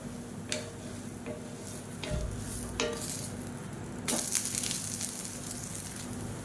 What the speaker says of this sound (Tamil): இப்போ தோசை ஒரு சைடு வெந்துடுச்சு. திருப்பி போட்டுக்கலாம்.